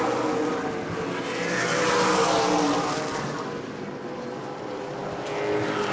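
Super late model race cars racing around New Smyrna Speedway, a continuous loud engine roar that swells and fades as the pack passes, with no talking.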